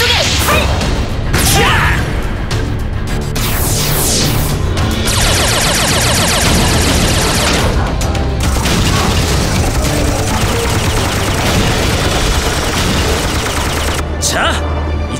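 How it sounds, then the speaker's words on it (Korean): Animated robots from the Mini Force cartoon series attack together with a sword, machine gun, pistol and bow, a dense, loud run of whooshes, booms, crashes and rapid shots over music. "남은 에너지를 모두 끌어모아서 특공 로봇 무기로 함께 공격하자."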